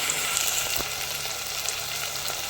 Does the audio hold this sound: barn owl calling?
no